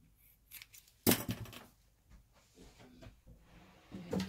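Scissors snipping notches into fabric for a sewn sun hat, giving a few quiet, close crisp cuts with one sharper snip and soft handling noises between them.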